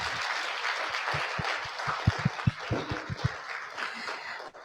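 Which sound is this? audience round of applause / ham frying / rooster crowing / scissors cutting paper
audience round of applause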